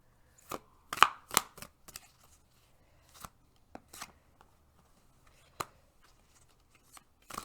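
Tarot cards handled during a pick-a-card reading: a series of sharp, dry card snaps and flicks, clustered early then spaced out, close and fairly loud over a quiet background with no talk.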